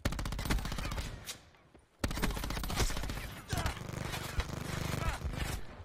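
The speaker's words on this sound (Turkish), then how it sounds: "Öküz gibi ateş ediyor" Rapid automatic gunfire from the Call of Duty Black Ops 4 video game comes in loud, dense bursts, breaking off into a short lull before a long sustained stream of shots resumes, heard close.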